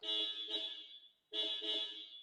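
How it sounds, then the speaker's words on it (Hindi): Two long, loud honks of a 2022 Ford Ranger Raptor pickup's horn close by, a steady bright tone separated by a short gap of silence. "स्टीयरिंग व्हील के ऊपर आए तो ये हॉर्न कुछ इस तरह से बजाती है।"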